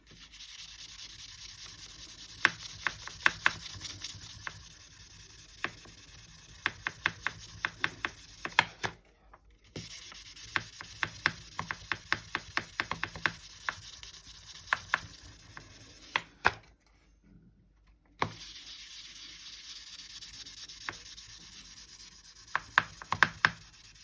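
Steel soap burnishing the surface of polymer clay mokume gane: repeated short scraping and rubbing strokes in quick bursts, close and fairly quiet, with two brief pauses and no talking.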